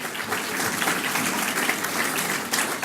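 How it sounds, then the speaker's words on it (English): An audience at a Chicago event applauds, a steady round of clapping lasting a few seconds with no voices over it. "Give her a round of applause."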